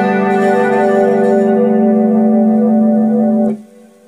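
Electric Stratocaster guitar played through a Boss Super Chorus, a Boss Flanger and a DOD delay, a loud sustained chord shimmering and swirling for several seconds, then cut off, leaving a faint ringing tail.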